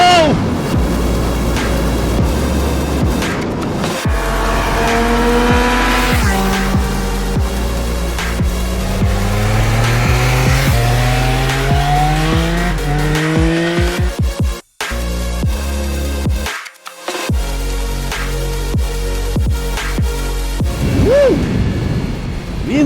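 Triumph Speed Triple 1200 RS motorcycle engine revving hard past seven and a half thousand rpm, a loud rising howl climbing through repeated gear pulls with brief gaps between shifts, accompanied by wind roar and a voice.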